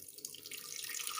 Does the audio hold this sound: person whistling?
no